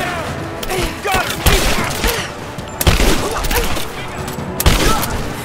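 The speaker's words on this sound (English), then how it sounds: "Give me covering fire! Got your back! I'm under fire!" Gunfire in the video game Rise of the Tomb Raider: loud, dense volleys of shots and booming impacts repeat in close bursts, with shouted voices from the game mixed in.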